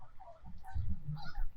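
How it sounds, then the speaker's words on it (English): Geese honk while flying over a river, several overlapping nasal calls in a quick irregular burst, fairly near and clear with no talk. "The geese are flying across the river right now, if you hear the oh, wow. honking."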